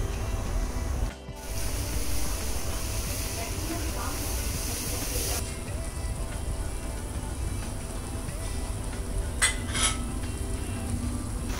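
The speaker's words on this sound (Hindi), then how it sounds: "अब इसमें हम डालेंगे इसका रामेन और इसको पकने देंगे।" Samyang seafood ramen noodles cooking in soup in a pot, with a steady, fairly loud simmering hiss throughout and a few brief clinks and knocks.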